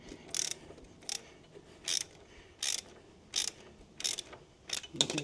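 Ratchet wrench undoing the rear shock bolt nut on a Honda Transalp 750, a series of short, close metallic clicking bursts in a steady rhythm.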